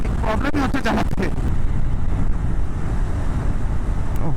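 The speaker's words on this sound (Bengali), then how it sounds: "উল্টো দিকে হাওয়া, প্রচন্ড পরিমাণে হাওয়া উল্টো দিকে, তাই জন্য বাইক টপ স্পিড নিতে পারছে না" Strong headwind buffets a motorcycle on a winter highway ride toward Delhi, a loud continuous roaring rush of wind noise, with a voice talking briefly at the start.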